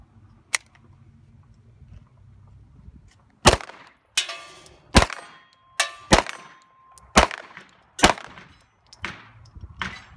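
Glock 17 9mm pistol shots ring off steel targets outdoors: one early shot, then a quick string of about nine sharp cracks, each followed by a metallic clang, loud and close.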